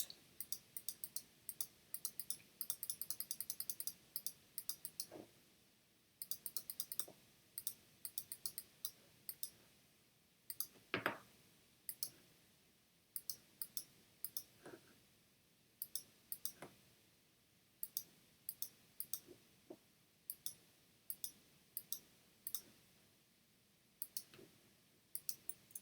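Rapid computer mouse clicks come in clustered bursts throughout while using Photoshop, crisp and close with brief pauses between runs, no talking.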